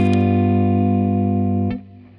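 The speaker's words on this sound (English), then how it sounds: "this is what happens when you play a so-called dominant 7th chord and it gets" A sustained dominant seventh chord rings loud and steady, then shifts and decays into a quieter resolving chord near the end.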